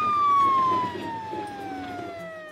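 A toy ambulance siren wails steadily with gliding, slowly falling tones, loud at first and then a bit softer, with no voices.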